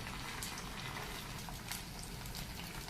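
Soft, steady bubbling hiss of macaroni coconut corn candy frying in oil, faint and unbroken throughout.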